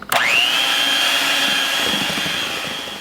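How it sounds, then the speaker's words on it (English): Electric blender whipping pound cake batter in a home kitchen: a sharp click-on, then a loud steady whirring whine that holds and fades slightly toward the end. "Now I'm going to continue mixing with my blender"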